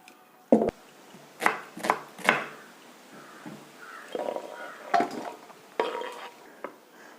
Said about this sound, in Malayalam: സവോള കട്ട് ചെയ്ത് കഴിഞ്ഞു.